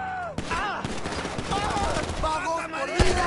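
Rapid bursts of automatic gunfire ring out in GTA V alongside sharp single shots and crackling impacts, with characters shouting over the shooting in a chaotic firefight.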